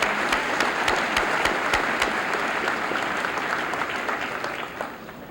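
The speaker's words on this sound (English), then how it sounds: "Let's give these students a nice round of applause." A school senior assembly audience applauds students, dense sustained clapping from a large crowd filling the hall and tapering slightly toward the end, with no talk over it.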